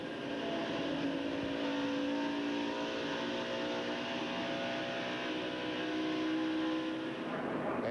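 NASCAR stock cars at the 2001 NAPA 500 in Atlanta stream down pit road with a dense, sustained engine roar and revving, several cars blending into one loud continuous drone.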